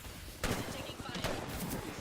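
Bursts of video game gunfire, a sharp crack followed by a few more quick shots, sit fairly faint beneath a busy game soundscape with voices mixed in.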